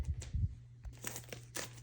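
Crinkling and tearing of AUXITO H13 LED headlight bulb packaging being opened by hand, a few close, sharp rustles and rips separated by brief pauses.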